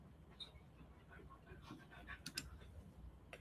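A dog pants faintly while playing with toys nearby, rapid soft breaths with a few whimpers and small clicks, quiet and somewhat distant, heard alone.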